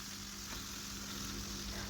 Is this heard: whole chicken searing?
yes